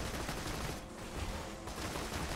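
Rapid, dense gunfire from the video game Borderlands 2, a loud, continuous barrage of shots that dips briefly before resuming, with no talk over it.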